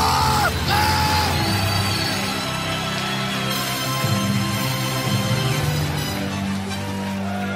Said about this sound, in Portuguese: dá um berro de glória a Deus